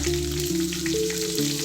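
Dried red chillies fry in hot tempering oil in a pan, a steady close sizzle with light crackles throughout, under sustained background music notes.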